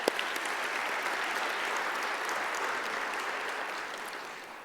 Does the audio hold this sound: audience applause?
yes